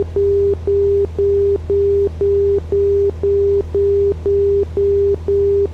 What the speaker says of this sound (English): that's that stupid outer marker stuff. So annoying. So loud, can't turn it off